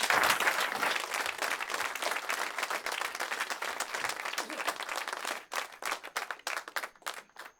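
A grand round of audience applause for an organizer at a formal program, dense clapping at first that thins into scattered individual claps as it dies away.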